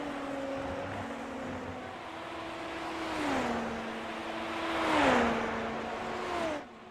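Open-wheel race cars in the Super Formula racing game at Silverstone, engines whining at steady pitch and shifting through gears, one pulling alongside another as they pass at moderate distance.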